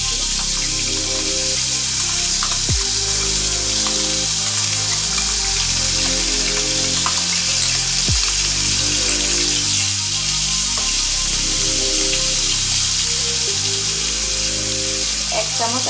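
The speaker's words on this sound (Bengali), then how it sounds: "এবার আমি আগে থাকতে পেঁয়াজ পেস্টটা আমি দিয়ে দেবো" Onion paste frying in hot oil with whole cumin seeds and two bay leaves, a steady close hiss and sizzle running for the whole stretch with occasional sharp crackles, while a voice speaks over it.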